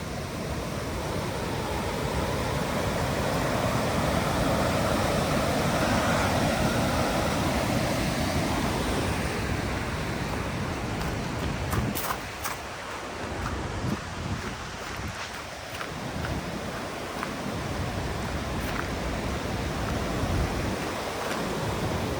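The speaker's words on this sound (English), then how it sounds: "You guys can hear the sound of the river." Steady broadband rushing of a river flowing near Milford Sound, New Zealand, fills the scene, continuous and fairly loud, with a few low thumps toward the end.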